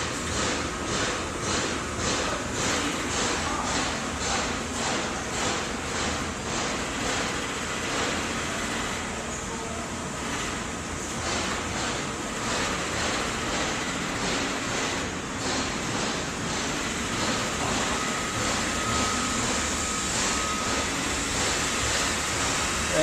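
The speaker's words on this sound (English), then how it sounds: "And it is a Copeland scroll compressor, 7 horsepower." A 2009 Edwards Engineering 7-ton air-cooled chiller with a 7-horsepower Copeland scroll compressor runs at low temperature, producing a steady, loud mechanical drone with faint rhythmic pulsing throughout, and no voices.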